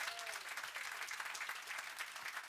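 A studio audience claps for a band's new album. The applause is dense and steady and fairly quiet, lasting only a couple of seconds with no speech.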